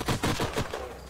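Several quick gunshot bursts in the sci-fi strategy game Age of Wonders: Planetfall, crackling in a fast cluster of about four reports before a short fading tail, fairly quiet and with no talk.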